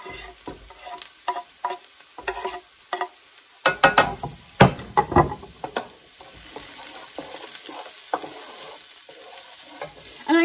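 Celery and sage fry in a pan while a spoon stirs them, soft sizzling under a series of close scraping clacks in irregular bursts, with no talk.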